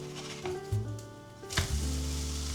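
Potatoes fry in a pan with a steady close sizzle, punctuated by a couple of sharper bursts as pieces are moved or stirred, with no speech.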